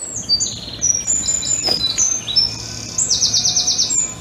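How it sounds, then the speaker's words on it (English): A wren sings rapid, high trilling phrases over a constant low rumble of construction noise, with bursts of quick chattering notes. "Nice to hear the wren singing here,"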